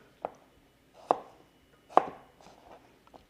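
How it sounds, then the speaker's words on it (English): Knife chopping green tomatoes into quarter-inch matchsticks on a board, four sharp distinct chops spaced under a second apart, close and clear with quiet gaps between. "So I'm just cutting these into like little 1/4 inch matchsticks."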